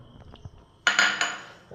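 Nuts drop into a juice blender jar with a sudden bright rattling clatter that rings briefly and tapers off, close up, after a few soft handling knocks.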